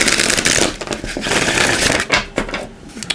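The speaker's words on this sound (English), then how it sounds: "Just give these a quick shuffle." Continuous close-up shuffling of an oracle card deck, dense papery slaps and flutters for a few seconds, easing off near the end.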